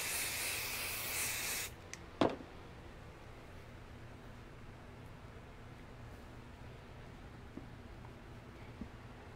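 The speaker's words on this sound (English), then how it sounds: "I just want to make sure that this is nice and smooth before I spray it" Adhesive spray hissing onto quilt fabric for a puff quilt, one steady burst lasting under two seconds, followed by a sharp brief rustle and then near quiet.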